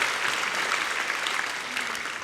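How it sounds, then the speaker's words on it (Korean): A church congregation applauds in a short, even burst of clapping that fills the room for about two seconds and fades slightly at the end. "우리 박수로 축복합니다."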